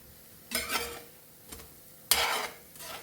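Potato tikkis fry a second time in a pan, with a quiet hiss broken by a few bursts of louder sizzling and scraping as they are moved, close up and without speech.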